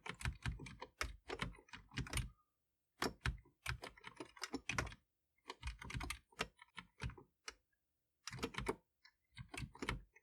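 Fingers tap on a Commodore 128 computer keyboard in short, quick bursts of clicky keystrokes with brief pauses between them, close and clear with no talking.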